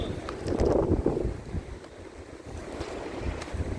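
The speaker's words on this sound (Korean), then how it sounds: "바람이 불어서 자빠질 뻔해가지고" Wind gusts outdoors buffet the microphone with low rumbling bursts, strongest near the start and easing into a steadier rush, with no voices.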